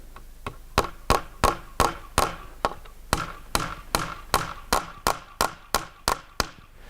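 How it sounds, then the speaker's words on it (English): A hammer strikes nails into wood in a steady series of about twenty sharp, close blows, with a short pause partway through. "I'm going to hammer in a couple of nails"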